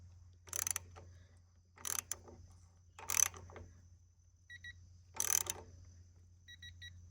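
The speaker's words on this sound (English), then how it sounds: "I'm gonna put my wrench on the bottom, holding this snugly, and then I'm gonna tighten to 7 foot-pounds" A digital torque wrench tightens a dual-control brake bolt on a Honda Transalp XL750, giving four short bursts of clicking and ratcheting, each followed by faint electronic beeps, close up against a quiet low hum.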